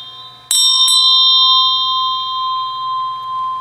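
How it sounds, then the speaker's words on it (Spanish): A Tibetan bell is struck twice in quick succession, loud and close, then rings on as a steady, clear tone that slowly fades, with no voices. "este sonido de la campana, que como podemos ver se prolonga bastante,"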